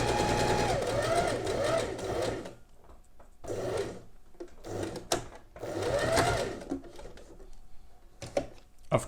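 A sewing machine stitches bias binding around a curved fabric edge in steady bursts of rapid mechanical whirring, pausing briefly between runs, close and clear while a voice talks over it.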